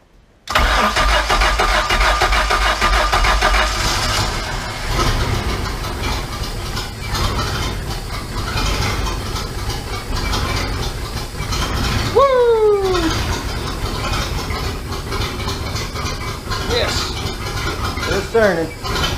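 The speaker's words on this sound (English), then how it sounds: "Let's see if this thing will actually crank now that the rotor's not just turning on its own and it's turning with the engine." A MerCruiser boat engine cranks and struggles to start, churning loudly and unevenly at close range before catching and running rough, with a few brief squealing tones near the end.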